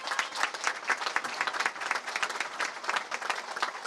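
A crowd at a CHP political rally in Burdur claps steadily, producing dense, sustained applause throughout with no voice rising above it.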